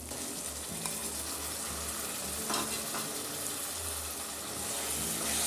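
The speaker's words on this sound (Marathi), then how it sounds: "हे सगळं छान असं परतून घेतल्यानंतर आपल्याला याच्यामध्ये ठेचलेला दोडका टाकायचा आहे" Crushed ridge gourd sautés in a pan with a soft, continuous sizzle and occasional scraping stirs, fairly quiet and steady throughout with a low hum underneath.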